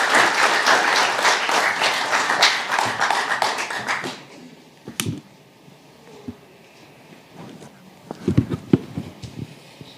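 An audience welcomes a lawyer taking the stage with loud, dense applause for about four seconds. It then drops to near quiet, broken by scattered taps and knocks, and a few sharp bumps come near the end.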